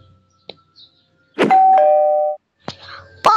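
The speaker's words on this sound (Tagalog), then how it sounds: "Ito, may doorbell pa sila." An electronic doorbell at a house gives a two-note ding-dong that rings out clearly for close to a second, framed by soft rustling and a few brief voice sounds.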